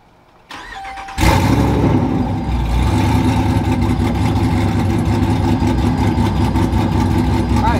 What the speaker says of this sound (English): I'm going to start the truck up again.